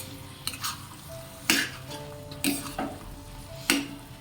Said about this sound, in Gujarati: હવે તેને સારી રીતે મિક્સ કરી લઈએ.